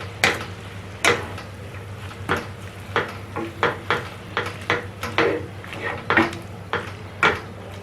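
Radish leaves and salt are stirred in a cooking pan, a utensil scraping and clinking against the metal in about a dozen uneven strokes, close and clear with a faint sizzle beneath.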